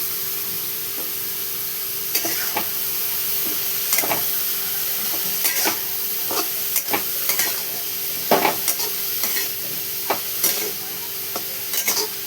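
Cabbage vegetable curry being mixed in a pan, with a steady hiss of cooking under repeated sharp scrapes and taps of a spoon at irregular intervals.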